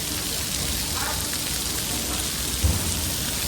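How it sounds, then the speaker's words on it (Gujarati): A heavy summer downpour falls in Morbi, Gujarat as a dense, constant roar of rain on surfaces. One brief low thud near the end may be a distant thunder clap. "ભર ઉનાળે વરસાદ ચાલુ છે ફૂલ."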